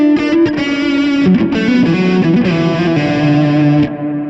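Electric guitar played through a Boss GT-1000CORE preset with reverb and tap-tempo delay, loud sustained distorted notes and chords ringing with ambient wash, then cutting off into a decaying tail near the end.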